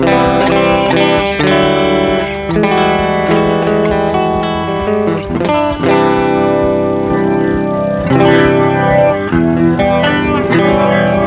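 Electric guitar chords through a NUX Roctary rotary speaker pedal ring out with a swirling, warbling modulation that pulses and spins through each sustained note, loud and close.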